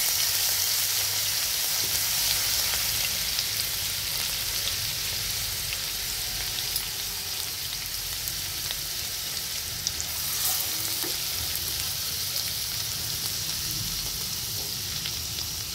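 Garlic paste fries in hot oil in a pan with asafoetida for a potato and capsicum dry dish, making a loud, continuous close sizzle and crackle heard alone throughout.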